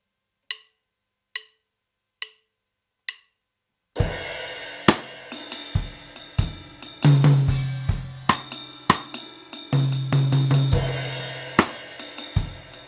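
A drum kit plays a slow groove: four sticks clicks count in, then bass drum, tom hits and ringing cymbal strokes follow in an even, unhurried rhythm, close and clear.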